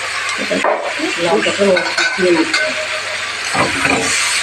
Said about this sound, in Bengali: লাউটাকে একটু কষিয়ে নিতে হবে